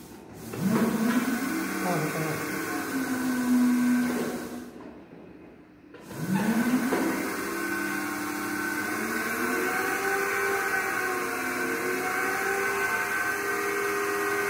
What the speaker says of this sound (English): As you see, this motor has been started